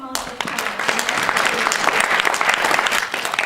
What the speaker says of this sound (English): So a big round of applause for all the ladies who has put a tremendous amount of time.